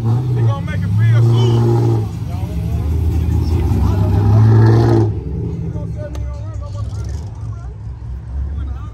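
Loud Dodge Hellcat engine revving hard at a car takeover, a deep sustained roar for several seconds that cuts off abruptly, with crowd chatter and voices around it.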